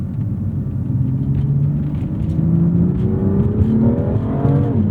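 A 2017 BMW M2 F87 in Sport Plus mode, with stability control off, accelerates hard, its engine note climbing steadily in a deep, gruff rising growl, heard loud and close from inside the car.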